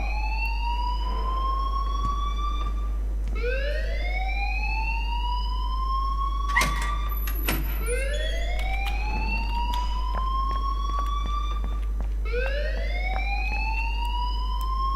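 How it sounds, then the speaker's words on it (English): In the video game Life Is Strange, an alarm siren wails in repeated rising sweeps, loud and steady, with a low constant hum underneath and a few brief clicks. "please turn off that alarm since that's your job"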